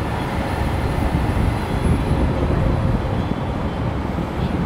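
MRT metro train passing near Robinson's Galleria, a loud continuous low rumble and roar that holds steady without a break.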